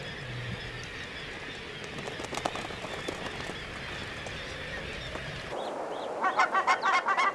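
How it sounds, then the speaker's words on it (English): Barnacle geese call from an Arctic nesting cliff in a series of short, yelping honks that rise near the end over steady wind and ambient noise, fairly distant at first, then clearer. "Barnacle geese, another Arctic cliff nester."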